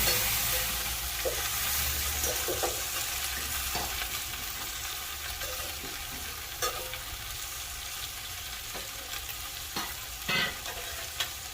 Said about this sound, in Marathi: सर्व बाजूने आपण फ्राय करून घेणार आहोत